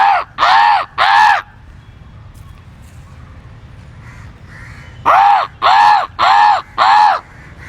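Crows cawing in trees: a loud close burst of three harsh caws, a quieter pause with faint background calls, then four more evenly spaced caws in quick succession.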